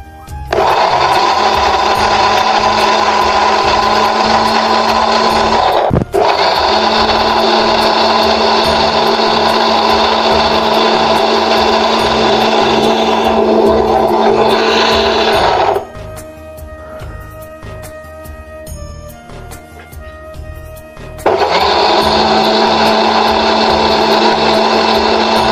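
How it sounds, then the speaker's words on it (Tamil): A mixer grinder whirs loudly as it grinds coconut in a mixie jar, running steadily with a brief stop near six seconds and a quieter pause from about sixteen to twenty-one seconds before grinding resumes. "இப்போ மிக்ஸி ஜாரில் போட்டு அரைன்னு அரைக்க வேண்டியதான்"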